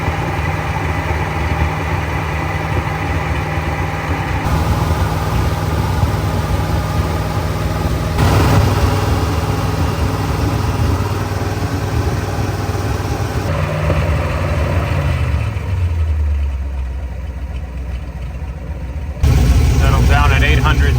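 An old V8 car engine idles loud and close, rumbling unevenly with pops and misfires, its speed dropping and shifting over a long stretch.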